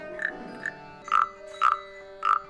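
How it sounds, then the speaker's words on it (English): A frog-shaped percussion instrument at a musical instrument museum in Hamamatsu, Japan, croaks two soft rasps and then three louder, evenly spaced ones, each short and close with nothing else heard. "I got to play this frog thing"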